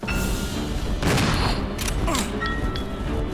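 Rapid gunshots fired at a moving bat in the video game Resident Evil 0: a loud, close volley of cracking shots with metallic mechanical clicks in between.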